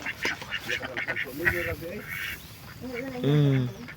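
Two ducks quacking on a farm where they lay eggs, nasal calls rising over someone talking nearby, with a louder burst of quacks near the end.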